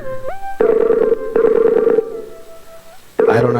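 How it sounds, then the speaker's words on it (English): Ringback tones of an outgoing phone call, repeated bursts of a steady electronic tone with short gaps between them, loud and close, with faint background noise. "It's ringing, as you can hear."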